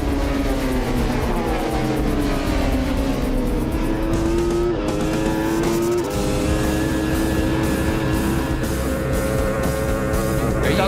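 Racing motorcycles at the North West 200 road race roar at full throttle on the road course, a loud sustained engine wail with shifting pitch as machines pass close, no talk over it.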